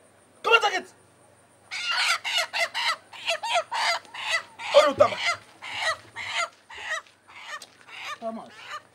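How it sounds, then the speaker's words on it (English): Chicken clucking in short repeated bursts across a Nigerian comedy scene, loud and close, with a few deeper calls and a hint of speech near the end. "Thomas, from where did you get that chicken?"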